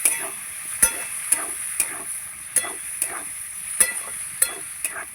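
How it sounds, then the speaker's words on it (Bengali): Spices are stirred into dried fish frying in a pan with winter beans and potatoes, a sizzling hiss broken by repeated sharp spoon scrapes and taps against the pan at an uneven rhythm. "মশলাটা দিয়ে একটু নাড়িয়ে চাড়িয়ে নেব।"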